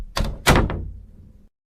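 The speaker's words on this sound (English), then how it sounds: "He walked in and gently closed the door." A door closes in a quiet room, with two quick knocking thuds followed by a firmer latching clunk that trails off into a short room tail, close and fairly loud, with no voices.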